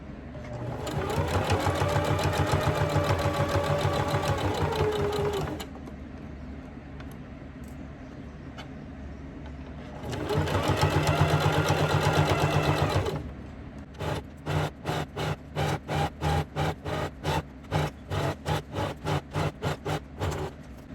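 A sewing machine stitches a layer of a three-layer bustle wrap skirt, running in two long continuous bursts with a pause between, then a series of short rhythmic back-stitch pulses, close and clear with no talk.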